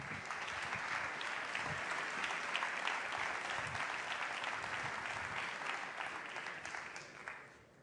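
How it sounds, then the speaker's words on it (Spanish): An audience at a cybersecurity conference talk applauds steadily and warmly, a sustained wash of many hands clapping that tapers off at the very end. "Un aplauso muy fuerte, piratillas, para Deepak Daswani."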